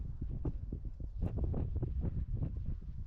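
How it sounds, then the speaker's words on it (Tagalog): Strong wind buffets the microphone near the summit of Mt. Matwil Twil in Mabini, Pangasinan, a steady loud roar with rough low gusts running throughout and no voices. "Wala, malakas yung hangin na."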